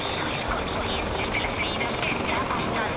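A helicopter in Far Cry 4 gives a dense, continuous rotor and engine roar at steady loudness, with no break across the whole stretch, while talk seems to run beneath it.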